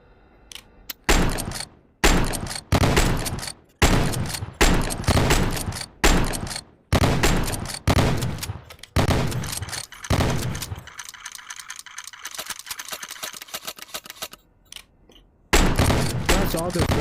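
A minigun in a zombie survival video game fires in long, loud roaring bursts, repeated about a dozen times with short gaps and one sustained stretch, while players talk over the gunfire.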